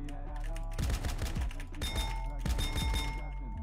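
Repeated gunfire bursts from the video game GTA, played on a server during a gang turf capture against Grove Street, come in dense volleys and fusillades, loud and close, over continuous game background sound.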